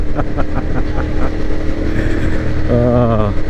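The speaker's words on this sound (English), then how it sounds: "It's a Ducati. What else do you expect? That engine sound, oh my god, I'm a fan of the twins." A 2019 Ducati Monster 1200R twin-cylinder motorcycle runs on the road under steady throttle, its engine rumbling continuously and close up, with a brief rising rev near the end.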